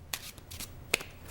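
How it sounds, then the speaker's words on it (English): Playing cards riffling through a real overhand shuffle, a soft continuous rustle with two brief sharper snaps, quiet and close with no voices. "this is the real shuffle."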